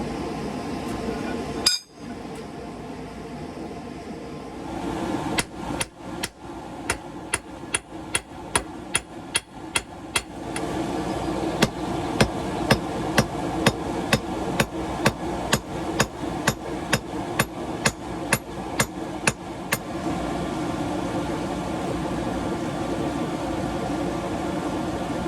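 Hand hammer strikes on hot 1/4 inch square steel bar as hooks are forged, a long run of sharp, evenly paced ringing blows on an anvil, close and loud over a steady forge roar, with a brief clatter early on.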